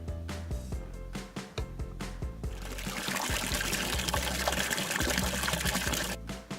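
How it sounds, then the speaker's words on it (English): Water poured from a container into a toy toilet for a children's potty game, a steady trickling pour that starts partway through and runs for a few seconds at close range, with no talking. "Okay, we had to put some water in here for the toilet water."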